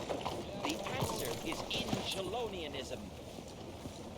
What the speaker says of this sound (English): Riding a horse in this...